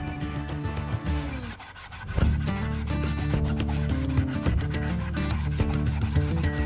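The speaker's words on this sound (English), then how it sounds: "After that, I hand sand the side. Do the same thing. I use 120 grit and then 220" Sandpaper in 120 and then 220 grit rubs by hand across the side of a wooden guitar body in steady back-and-forth strokes, close and continuous after a brief pause.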